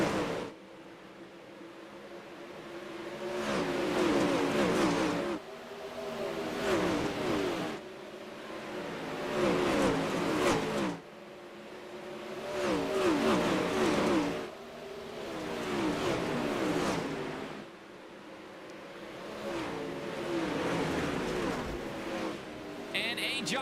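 360 sprint cars roaring at the start of the A main on the Bristol dirt track, engines surging and fading in long repeated waves as the pack passes, loud and sustained.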